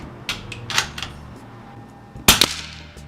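A 300 Blackout rifle fires one sharp supersonic crack, set among a few lighter mechanical clicks and snaps just before it.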